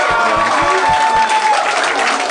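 Studio audience applauding in response to a poll about pineapple on pizza, a steady dense clatter of claps with some crowd noise, loud and close, with faint low thumps underneath.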